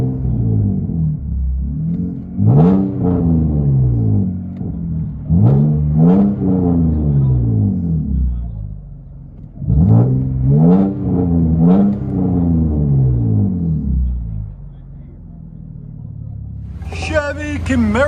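A 2018 Chevy Camaro RS V6 with true dual straight-pipe exhaust is heard from inside the car. It revs loudly in repeated rising and falling bursts, with rumbling lows between them and a brief higher clatter at the end.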